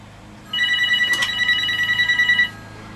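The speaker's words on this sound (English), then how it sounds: "Phone is going to ring." A telephone bell rings indoors in a home, one loud continuous trilling ring lasting about two seconds, standing out clearly over a low background hum.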